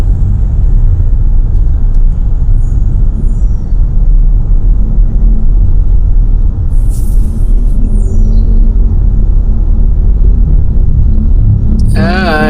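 Slow-moving road traffic in Cubao rumbles loudly and steadily from inside a vehicle, a low engine throb and hum with passing cars, and a brief sharp squeal near the end.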